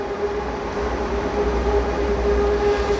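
An ICE train named Leipzig pulls into Göttingen station, a loud steady rumble of rolling wheels with a faint sustained whine on top, heard close with no talking.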